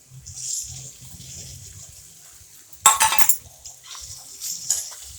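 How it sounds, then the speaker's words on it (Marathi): Diced potatoes with turmeric being stirred in a pan: quiet scraping, then one sharp clattering clink midway and a few fainter knocks after. "हळद टाकून घेऊ हलवून घेऊ एकसारखं"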